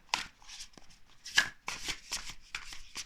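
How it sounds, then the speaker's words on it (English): Astrological cards being shuffled by hand, a series of close, crisp riffling bursts in an irregular rhythm over about three seconds, with no speech. "I will be pulling some astrological cards."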